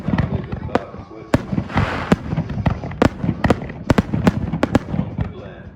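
Fireworks burst at Havasu 95 Speedway, a rapid irregular string of sharp cracks and booms ringing out over crowd murmur and distant voices.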